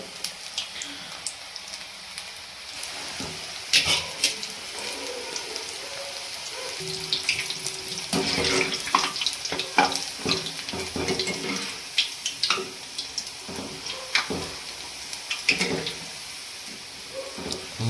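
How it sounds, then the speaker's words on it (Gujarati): Onion pakoras frying in hot oil in a kadai give a steady wet sizzle and bubbling, loud and close, swelling in bursts through the middle and staying in the background throughout. "આ કડાઈમાંથી પાણીનો અવાજ આવે છે"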